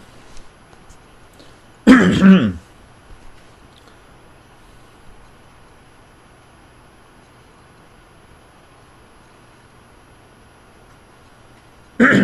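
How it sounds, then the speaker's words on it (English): A single short burst of coughing and throat clearing cuts through a quiet room, followed by near silence and a brief second burst at the very end. "I apologize for my coughing there."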